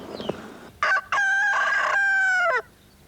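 A rooster in a village in Villefranche-du-Périgord, France, crows once loud and close: a short opening note, a brief pause, then a long sustained cock-a-doodle-doo that ends abruptly, over quiet background.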